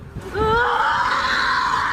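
Workers scream in anguish while fleeing an office shooting at a Middleton, Wisconsin office park, several raised voices wailing loud and sustained after a brief lead-in.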